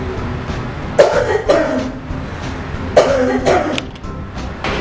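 Two pairs of sharp coughs ring out close by, each pair a quick double burst, separated by a brief pause, with no talking.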